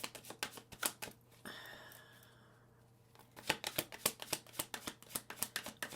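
Tarot cards being shuffled by hand, close and crisp: a run of rapid riffling clicks, a brief smoother sliding pass, then another fast burst of snapping card flicks, with no one talking.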